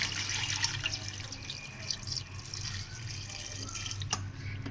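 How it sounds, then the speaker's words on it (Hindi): Water from a jug pours into a cooking pot that holds meat and whole spices, a soft, steady splashing trickle heard close up for a few seconds with no voices. "आधा जग के करीब हमने इसमें पानी शामिल किया।"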